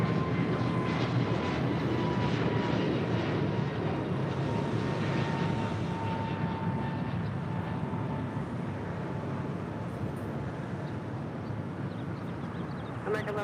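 An American Airlines jet taking off at Los Angeles International Airport, runway 25 right, a steady broad engine roar heard from a distance that holds evenly throughout, with faint voices in the background.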